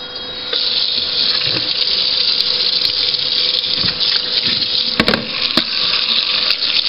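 Cold water runs steadily from a kitchen tap into a sink while rasgulla is being made, a loud, continuous hiss and splash lasting throughout with a few brief clatters.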